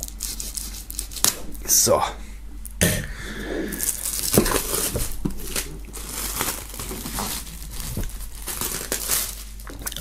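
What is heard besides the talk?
plastic foil wrap being cut and removed from box set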